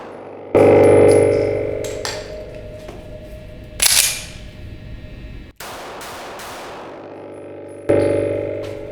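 Sig P365 XL and X-Macro 9mm pistols fire back-to-back, with three sharp, loud shots that ring briefly, separated by a few seconds of quiet.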